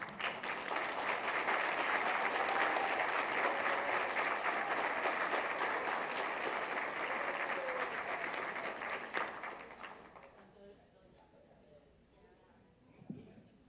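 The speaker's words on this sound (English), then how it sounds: "Can we give them another round of applause?" Attendees at a regular school board meeting give students a long round of applause, a sustained crowd of clapping with scattered cheers that holds strong for about nine seconds, then thins out and fades into quiet room noise.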